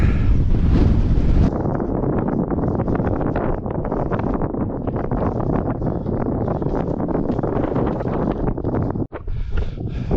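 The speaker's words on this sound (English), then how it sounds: "And It's windy as hell" Strong gusty wind buffets the microphone on a mountain hiking trail up stone stairs toward Ulriken, a loud continuous roar that dips briefly near the end.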